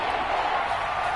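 A stadium crowd in an American football video game keeps up a dense, even roar of cheering and noise behind the defense, a continuous wash of voices with no single call standing out.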